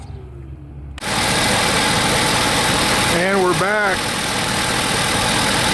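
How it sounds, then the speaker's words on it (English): A 2015 Ford F250 Super Duty turbo diesel 4x4 engine runs at a steady idle, a loud continuous rumble that starts abruptly after a brief quiet moment, with a person speaking briefly over it. "F250 Super Duty turbo diesel running right now"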